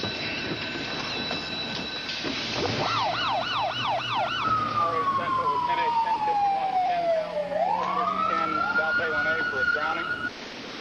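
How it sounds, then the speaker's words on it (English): An ambulance siren is sent to a rip-tide rescue at the ocean. It blares close and loud, cycling from quick yelps into a long sweeping wail, over a heavy rumbling background. "An ambulance was immediately dispatched to the scene."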